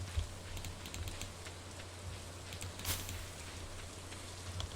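Rain falls steadily in the video game Stardew Valley, a faint, even patter with soft scattered drops and a low hum beneath, with no voices.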